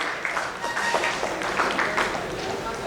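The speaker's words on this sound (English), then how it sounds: "A round of applause." A round of applause for the moderators at a medical event, dense steady clapping from a crowd across the whole stretch, with a voice talking over it.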